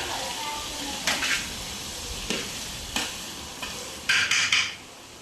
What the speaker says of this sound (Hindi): खड़ा मसाला डाल दिया मैंने इसमें।